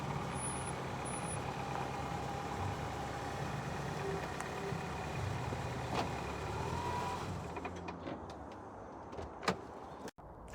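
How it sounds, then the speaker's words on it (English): A 2012 Toyota Camry engine hums and rumbles steadily at close range with a faint high whine from a buzzing serpentine belt, then the noise drops away as it pulls into a driveway, and a few sharp clicks and a thud follow. "there was a buzzing noise. I think it's coming from the serpentine belt"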